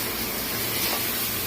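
Bitter gourd stir-fries in an uncovered pan, a steady broadband sizzling hiss close up and unbroken, with no voices.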